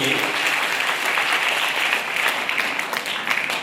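Female college students at a women's college rally against drug abuse burst into loud, sustained applause, a dense wash of many hands clapping together at close range that keeps going without pause.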